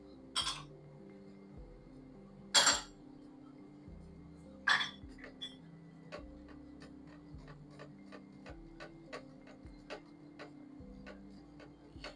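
Espresso stirred with condensed milk for a Spanish latte, heard as repeated light clinks of a spoon against glass in a steady ticking rhythm, with a few louder taps, close and alone.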